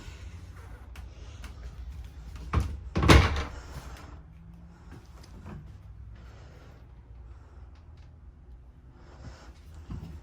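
A large wardrobe door in a pre-owned 2014 Work & Play toy hauler RV opens with a quick pair of muffled thunks and a clack, close by, then quiet interior room tone follows.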